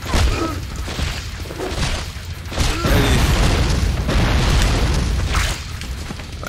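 Repeated grenade explosions in the Fallout: Brotherhood of Steel video game, heavy booming blasts that crash in and rumble out one after another, loud and close.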